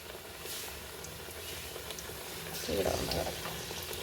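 Batter-dipped bread pieces bubble and crackle in hot oil with a soft, continuous sizzle. A voice talks faintly over the frying.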